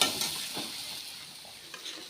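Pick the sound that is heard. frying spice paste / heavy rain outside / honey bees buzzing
frying spice paste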